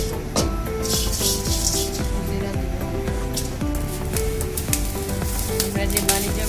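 Homemade garam masala lightly frying in a pan gives a bright, continuous sizzle with some rattling and stirring, mixed with background music.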